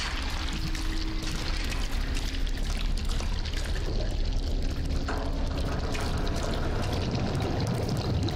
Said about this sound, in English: The ink drips.